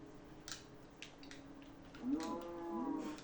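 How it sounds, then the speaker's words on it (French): Cows moo in the Minecraft video game, with light clicks and game effects early on, then a clear, drawn-out moo near the end, heard alone without talk. "Je vais déjà tuer les petites vaches, désolé."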